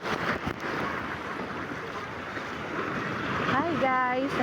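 Strong surf rolls onto a clear-water beach at Casiguran, a broad continuous wash of waves with wind buffeting the microphone, and a person's voice rises briefly near the end.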